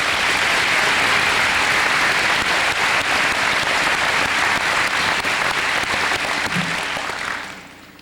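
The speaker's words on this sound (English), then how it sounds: "Let's give him a round of applause." Steady, sustained audience applause at a 2002 graduation ceremony, dense clapping filling the hall for about seven seconds before tapering off at the end.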